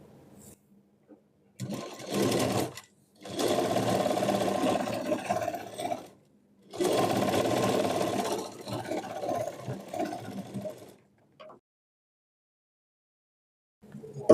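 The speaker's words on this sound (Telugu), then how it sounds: "ఇప్పుడు ఈ లైనింగ్ ఫ్యాబ్రిక్ మీద చివరి వైపున స్టిచ్ వేసుకోవాలి" A sewing machine stitches along the edge of the lining fabric for a knee-length frock, running in three steady bursts of close, loud whirring separated by brief pauses, with no talking.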